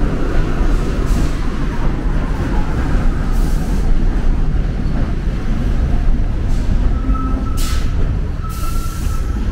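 A subway train in a New York subway station produces a loud, steady rumble and rail roar, with several brief higher screeches and hisses cutting through.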